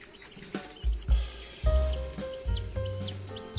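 High, arching peeps repeat every half second or so over low thumps and clatter, chicks calling close by at evening roosting time in a free-range chicken yard with no coop.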